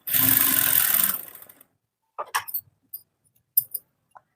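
A sewing machine stitches a blouse in a close, steady whirring run of about a second, followed by scattered soft clicks and handling taps.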